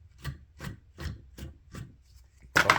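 Brush strokes on synthetic bucktail fibers of a musky glider lure: five light, evenly spaced rubbing swipes, close and soft, followed by a louder, harsher scrape at the end.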